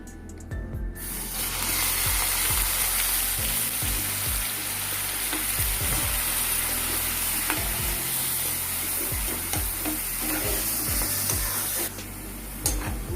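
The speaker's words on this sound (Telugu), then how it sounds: "ఈ ఆనియన్ అనేది కొంచెం బ్రౌనిష్ కలర్లో వచ్చే వరకు ఫ్రై చేసుకుందామండి" Onion paste sizzles steadily in hot ghee for a rajma masala curry, with a spoon scraping and stirring through it in a repeated rhythm. The frying is close and loud, and no one speaks.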